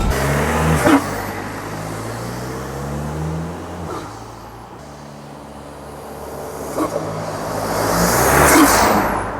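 A turbocharged VW Caddy van engine with an upgraded intercooler pulls hard under boost, heard from inside, its low harmonic drone rising through the gears, with a rushing whoosh layered on top and a few brief shifts between pulls.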